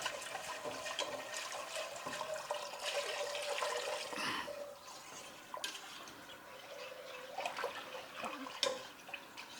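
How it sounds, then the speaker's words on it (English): Stock is poured into a pot of hot roux for chicken soup, making quiet, uneven splashing and trickling with a few brief louder splashes. "I'm going to start pouring in my stock now"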